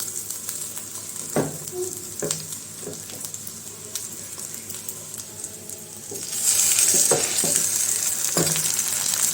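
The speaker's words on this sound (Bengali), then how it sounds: "এইভাবে আস্তে আস্তে ভেজে নেই" Large bread slices fry slowly in a pan with a steady soft sizzle, broken by a few sharp spatula clicks and scrapes. The hiss swells louder and brighter near the end.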